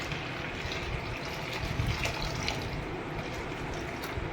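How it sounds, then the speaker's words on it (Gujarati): Water pours from a bottle onto soaked sago for tomato sago chakri, a soft, continuous splashing stream without pauses or voices. "અત્યારે મેં એક બોટલ લીધી છે આ એટલે કમસે કમ એક લીટર પાણી થાય તો અત્યારે હું પેલા એટલું એડ કરું છું"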